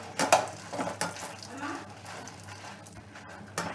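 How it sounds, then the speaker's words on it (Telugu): Dried red chillies fry in a kadai for a bitter gourd and curry leaf spice powder, with a few scraping stirs and clattering bursts over a low, steady sizzle, close by. "వీటిని కూడా ఎర్రగా అయ్యేదాకా వేయించుకోవాలి."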